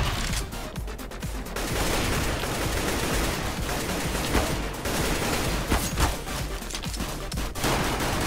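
Rapid bursts of automatic gunfire in Counter-Strike crackle continuously, with sharper individual shots popping out over a dense, loud wash of game battle noise.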